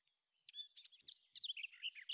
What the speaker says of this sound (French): le chant des oiseaux résonne dans l'air, créant une mélodie apaisante